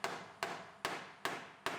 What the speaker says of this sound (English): We'll hammer these kinks out of here